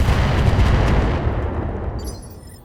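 A tank's main gun fires once in a video game, a loud close boom with a heavy rumbling tail that fades over a couple of seconds.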